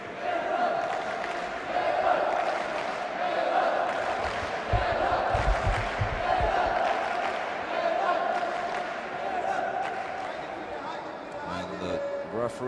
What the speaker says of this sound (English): you can hear the crowd with their full support.